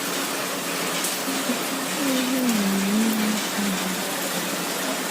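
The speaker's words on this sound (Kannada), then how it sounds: "ಎಷ್ಟು ಜೋರಾಗಿ ಮಳೆ ಬರ್ತಾ ಇದೆ ನೋಡ್ಬೋದು" Heavy rain pours in a dense, steady hiss at close range with no voices, while a faint tonal whine drifts through the middle of the downpour.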